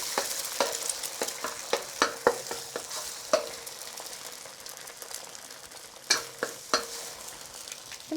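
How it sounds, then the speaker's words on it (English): Eggs being scrambled in hot shrimp-flavored oil in a pan for Thai pineapple fried rice, with a steady sizzle and repeated sharp utensil clicks and scrapes against the pan, close and alone. "I'm going to quickly scramble the eggs."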